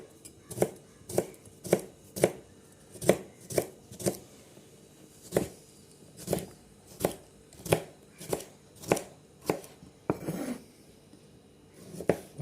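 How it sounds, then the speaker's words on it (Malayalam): Ivy gourd (kovakka) is chopped finely with a knife on a board, giving about fifteen crisp, evenly spaced cuts in a steady rhythm, close and clear, with no voices. "നല്ല ചെറുതാക്കി കട്ട് ചെയ്യല്ലേ"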